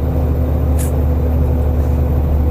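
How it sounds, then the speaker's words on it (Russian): Cabin noise inside a Ural Next truck tractor on the move: a loud, steady low engine drone and road rumble fill the cab, with a brief hissing whoosh near the start. "что довольно шумно в машине"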